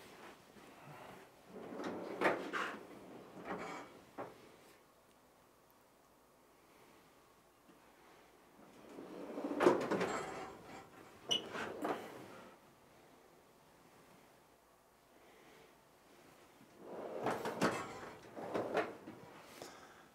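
Drawers in a leather working studio slide open and shut in three separate bursts of scraping and thudding, each a cluster of rattling wooden knocks, with quiet pauses between them and no talk.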